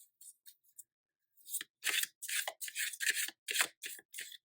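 Tarot cards are shuffled in a series of crisp, papery riffles and flicks, close up, in uneven bursts with short pauses between.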